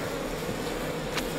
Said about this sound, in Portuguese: Lá está ela, a abelha rainha.